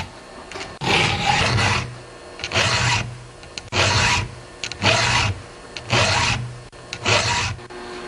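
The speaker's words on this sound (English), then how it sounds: "Now once you get used to sharpening chains, you may not need the guide around the file." A hand file sharpens a chainsaw chain in about six rhythmic rasping strokes, each a loud, close scrape lasting roughly half a second, with brief quiet pauses between.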